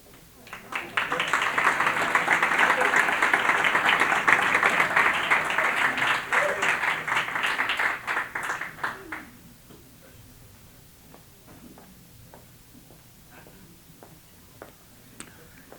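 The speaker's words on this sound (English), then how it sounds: "now let's have a round of applause for our first speaker," A crowd at a Malibu Saturday night AA speaker meeting applauds a speaker, loud steady clapping for about eight seconds that cuts off abruptly, followed by a quieter room with scattered small sounds.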